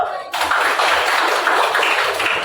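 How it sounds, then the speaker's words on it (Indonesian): Students clapping together in a classroom, a brief burst of dense hand claps starting after a short pause, fairly loud and close, with some voices mixed in. "Tepuk tangan dulu."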